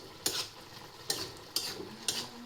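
Spoon stirring okra stir-fry in a hot pan, four short scraping strokes in an even rhythm over a faint sizzle, close and alone.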